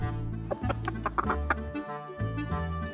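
A cartoon chicken clucks in a short, quiet run of chattering notes over a steady musical backing.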